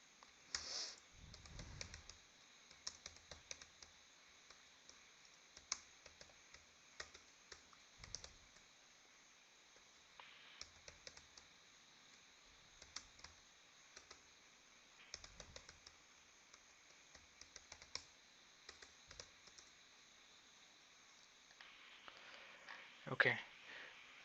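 Light typing on a computer keyboard comes in scattered bursts of soft, faint clicks across a quiet room, with a person speaking intermittently over it.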